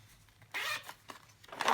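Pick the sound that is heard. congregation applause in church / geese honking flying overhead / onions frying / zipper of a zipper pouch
zipper of a zipper pouch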